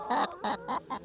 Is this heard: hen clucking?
yes